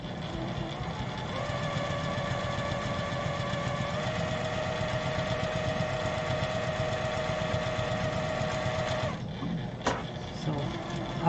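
A sewing machine fitted with a zipper foot stitches steadily and close up for about nine seconds, a continuous mechanical whir with a rapid needle rhythm, then stops, followed by a couple of light clicks.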